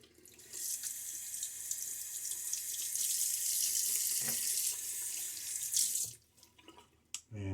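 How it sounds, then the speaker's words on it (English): Tap water runs steadily into a sink for a face rinse after a shave with a Gillette Fat Boy safety razor, a close, continuous splashing hiss lasting about six seconds before it stops, followed by a few soft clatters. "And full rinse and clean up."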